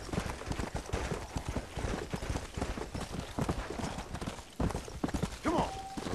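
Steady hoofbeats of the horse Pestilence from Red Dead Redemption: Undead Nightmare clop along at a quick, even gait for several seconds, close and clear over faint background sound, with a brief whinny near the end.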